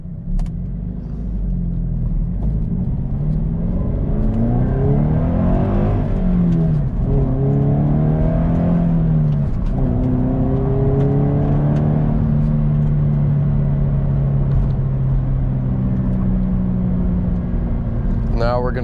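A car fitted with an aftermarket exhaust accelerates hard, its engine rising and falling in pitch as it revs through gears, a loud continuous rumbling drone heard from nearby, with a voice talking over it.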